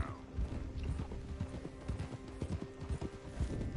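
Horse hooves clop steadily in Red Dead Redemption 2 under a low game music hum, with a brief whinny near the start.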